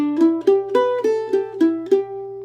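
A short plucked mandolin phrase from the tune "Methodist Preacher," about eight bright picked notes in quick succession with a few extra notes at the end, clear and close.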